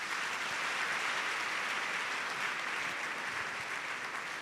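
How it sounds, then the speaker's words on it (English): A round of applause at a women in engineering event, steady clapping from an audience that sounds somewhat distant and fairly quiet throughout. "Let's give a round of applause for them."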